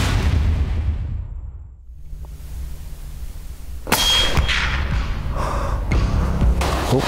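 A hunting rifle fires at a game animal outdoors, a single loud sharp report breaking a quiet stretch, followed by ringing, clattering echoes and rustling.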